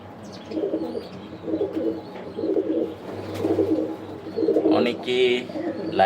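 Racing pigeons coo in a loft, a steady run of repeated low rolling coos close by, one bird after another, with a brief brighter chirp near the end.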